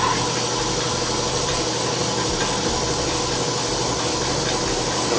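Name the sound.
Ellis 1600 mitering saw motor running with vibration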